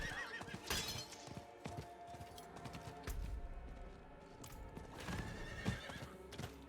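A horse gallops with rapid clip-clop hoofbeats and neighs in Diablo IV, mixed with scattered game effects and impacts, fairly quiet overall.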